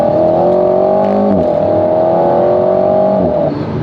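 Alpine A110 Légende GT four-cylinder engine revving loudly in track mode, a steady close engine tone that rises, dips briefly near the middle, then climbs again before easing off at the end.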